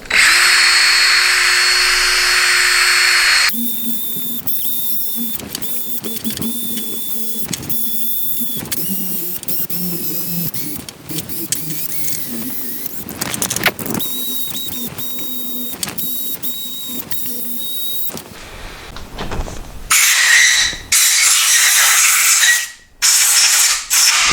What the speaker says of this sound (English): So I'm going to hit it with a wire brush and try to get the rest out of there.